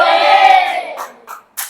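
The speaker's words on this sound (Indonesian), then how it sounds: "Robot bilang teriakan hore." Children in a classroom shout a drawn-out hooray together, loud and close, then it breaks off into a couple of short trailing sounds and a quick clap or bump.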